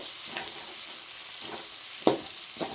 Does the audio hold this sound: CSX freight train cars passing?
no